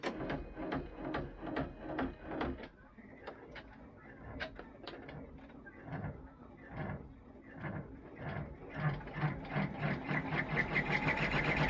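An embroidery machine runs the tack-down line on a reindeer-with-lights ornament, its needle hammering out a fast, even train of close mechanical clacks that keeps up throughout and turns denser toward the end.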